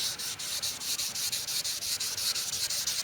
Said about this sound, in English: Since I'm sanding by hand, I think this will be fine.